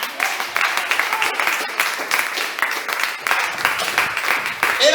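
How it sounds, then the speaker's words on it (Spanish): A church congregation applauds with a lively spread of hand claps, fairly close and sustained, with voices faintly mixed in toward the end. "Dale un aplauso al Señor Jesús."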